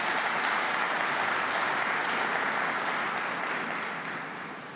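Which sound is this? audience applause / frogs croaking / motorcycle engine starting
audience applause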